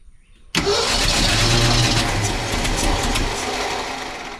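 A 1968 Ford F250 engine cranks without starting, the starter whirring loudly and steadily after a sudden onset, close up and slowly fading over a few seconds.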